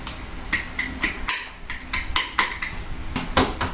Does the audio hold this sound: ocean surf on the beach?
no